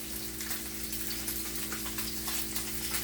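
Cod loin searing in a pan over turned-down heat, giving a steady, close, dense sizzle that holds evenly from start to finish with no talking over it.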